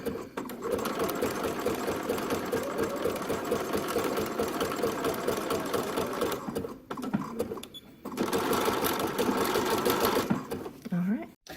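A sewing machine stitching the edge of a caftan cover-up hums in a long, close, steady run, stops for about a second, then resumes, with a voice speaking quietly beneath it.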